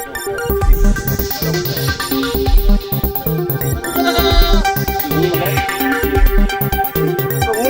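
Sheep on a goat farm bleat continuously, with several overlapping calls forming a loud, busy, nearby chorus.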